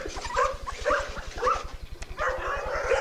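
American Bulldog puppies, a buckskin male and a brindle female, yip and bark in a yard, with whimpers between repeated high barks over a steady low rhythmic hum.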